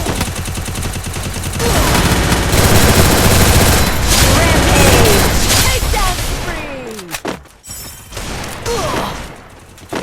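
Sustained automatic MP40 fire in the video game Free Fire, loud and dense, with rapid bursts and booming impacts that continue for several seconds before breaking into shorter volleys and a final burst.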